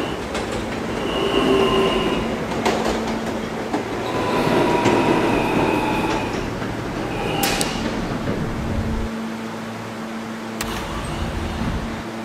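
A New York D subway train rides the rails with a steady rumbling roar, rhythmic wheel clicks and occasional high metallic squeals, heard from inside a car.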